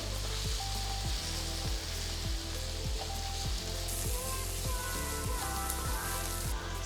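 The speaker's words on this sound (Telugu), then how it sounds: "సో బాగా మిక్స్ చేసేసి ఒక 2 to 3 మినిట్స్ ఉల్లిపాయల్ని బాగా సాటే చేయండి" Onions sauté in a pan for wheat rava upma, a soft steady sizzle with rain-like crackle and evenly spaced low knocks from stirring.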